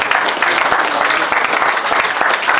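An audience at a 2017 agricultural fair in Cuon applauds loudly and steadily, dense close clapping filling the whole moment without pause.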